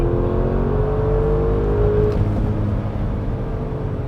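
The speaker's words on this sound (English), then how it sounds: "Until the twin turbos kick in. Yeah. And that really throws you back." An Audi SQ7 twin-turbo SUV accelerates hard, heard from inside the cabin as a deep, loud engine drone with rising and then falling tones, steady throughout.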